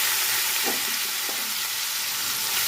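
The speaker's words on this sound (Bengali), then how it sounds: "এবার মাছগুলো আমি ভেজে নেব।" Fish rubbed with salt and turmeric fries in hot oil, giving a steady, close crackling sizzle throughout with a couple of brief louder spits.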